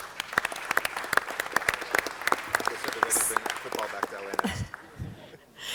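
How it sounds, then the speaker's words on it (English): Applause at a city council meeting, many distinct claps ringing out fairly clearly across the chamber before tapering off, followed by a brief voice. "let's give them all a round of applause"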